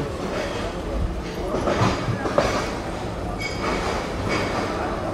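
Mohanganj Express pulling out of Gafargaon station on its Dhaka to Mohanganj run, with a steady rolling rumble of wheels and carriages, close and continuous, under a murmur of nearby voices.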